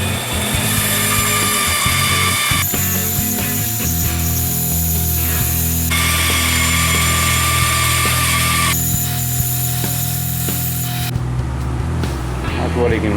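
A power saw cuts out parts for a Frankenstein lab prop in a workshop, loud whining bursts of cutting alternating with the motor running, continuous and close.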